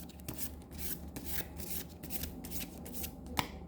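A deck of tarot cards is shuffled up close, a continuous soft riffling and rubbing with a small snap near the end, no voices.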